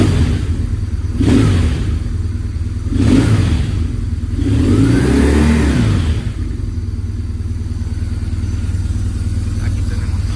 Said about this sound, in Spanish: Tipo de motor boxer, ya veis que cuando acelero la moto se mueve, ¿verdad?